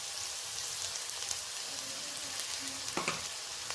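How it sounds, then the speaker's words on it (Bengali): Tomato and onion softening in a hot pan give off a steady, quiet sizzle, with a couple of brief scraping stirs near the end. "আবারও একবার আমি নাড়াচাড়া করে নিলাম"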